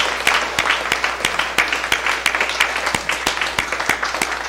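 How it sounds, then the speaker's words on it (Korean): A church congregation bursts into applause, dense overlapping hand claps sustained close and loud throughout with sharp individual claps standing out. "한번 박수하겠습니다."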